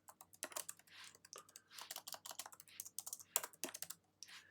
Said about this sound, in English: So let's type that out right now,